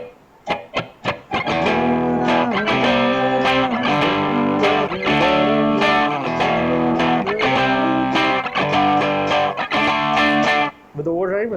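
Electric guitar strums power chords from a Bollywood song from Bhaag Milkha Bhaag, a few single hits and then a steady, loud run of repeated chords, each struck twice, with a brief pause near the end.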